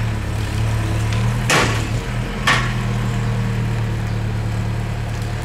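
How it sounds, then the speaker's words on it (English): Steel tie-downs, the girders holding down a manufactured home, being removed at a mobile home park in Edison, NJ: two sharp metallic bangs a second apart over a steady idling engine drone. "What you're hearing is the tie-downs, the steel girders that hold the house down."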